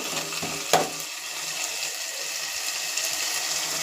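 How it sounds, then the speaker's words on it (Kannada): Tomatoes and onions frying in a pan for egg rice, a steady soft sizzle running throughout with a brief clatter near the start, no talking. "ಇದು ಟೊಮೊಟೊ ಎಲ್ಲ ಮೆತ್ತಗಾಗಬೇಕು. ಅಲ್ಲಿ ತನಕ ಇದನ್ನು ಹುರ್ಕೊಳ್ಬೇಕು."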